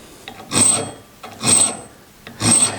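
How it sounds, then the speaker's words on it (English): Metal file rasping across dado plane irons to sharpen the edges, three separate scraping strokes spaced about a second apart, each a bright gritty rasp, close and loud with no talk. "So I'm just going to file these until I get a sharp edge"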